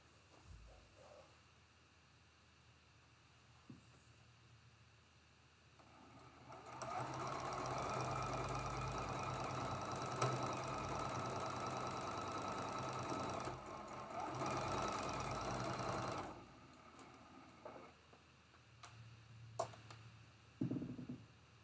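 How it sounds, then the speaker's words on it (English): A sewing machine stitches a quilt block seam in one steady, fairly loud mechanical whir of about ten seconds, starting and stopping cleanly, with quiet handling noises before and after. "Let's flip him over and sew that seam."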